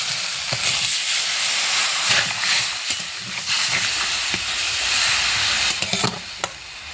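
Water goes into a pan of sizzling poppy seed and green chili paste seasoned with turmeric and salt, raising a loud steady hiss and sizzle close by, with scattered clicks and scrapes of a utensil.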